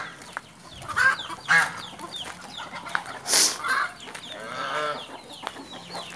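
Village chickens in a rural kampung in Mempawah cluck and squawk close by, with a few loud bursts of agitated clucking over quiet outdoor background.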